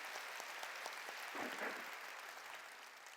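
A church congregation claps in a faint, distant wash of many hands during a sermon, steady for a few seconds and then slowly thinning.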